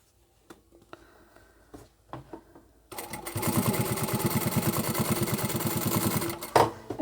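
Near a few scattered clicks and handling taps, then a sewing machine bursts into a fast, steady stitching rhythm for several seconds as it sews fabric up to a zipper on a fluffy bag, ending with a brief thump.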